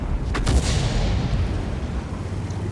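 Tank cannon fire in a video game, the target a Panzer 7: a single heavy boom near the start, then a long low rumble that fades across a few seconds, with no voices over it.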